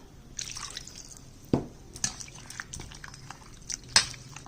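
Water poured off rinsed food in a home kitchen during vegetarian cooking, heard as a few short close splashes and drips separated by quiet gaps.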